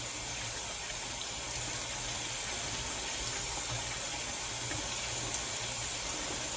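Tap water runs steadily into a kitchen sink being filled for washing collard greens, a continuous close gushing hiss with no talk.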